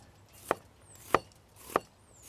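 A knife chops onions on a board for a Philly sandwich at a camp cooking setup, three crisp, evenly spaced thuds, close and fairly quiet, with no talking.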